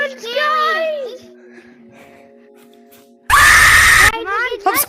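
A child screams in loud, high-pitched bursts, with wavering wails at the start and a harsh, sustained shriek near the end, close and piercing.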